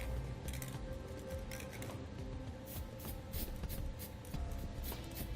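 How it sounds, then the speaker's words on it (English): Black gloss spray paint is sprayed over drilled holes while a B and W Companion sliding 5th wheel hitch is mounted in a Ram truck. A steady, soft hiss runs throughout, with faint clinks and rustles. "use some black gloss spray paint to prevent any rust and corrosion from occurring in the future"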